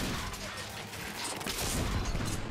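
Gunfire in The Order: 1886 on PS4, a dense, noisy burst of shots and crashes that runs unbroken for a couple of seconds at a steady, fairly loud level.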